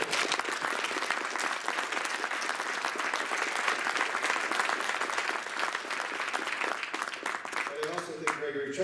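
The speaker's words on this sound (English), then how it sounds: "I think both Yuliya and Vitaly need a round of applause because they're great." An audience at the Play the Game 2019 sports conference claps steadily and densely through a session on whistleblowing, with the applause filling the room before a voice begins to speak near the end.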